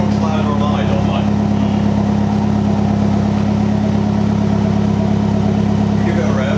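Volkswagen Golf R with resonator delete and decat exhaust, its engine droning steadily at a fast idle with a deep, loud rumble throughout and no clear rev rise, while speech murmurs faintly in the background.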